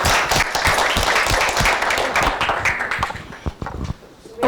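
A conference audience at a climate action session breaks into loud, dense clapping that holds strong for about three seconds, then thins out and fades to scattered claps.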